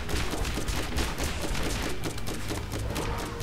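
Rapid video game gunfire in Borderlands as an enemy is set ablaze, a dense and continuous volley of loud shots and bursts that barely lets up, with almost no talking over it.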